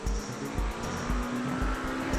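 A McLaren 720S GT3 in iRacing brakes hard into the first Mulsanne chicane at Le Mans, its engine note dropping through rapid downshifts with a steady tonal whine, loud and close throughout.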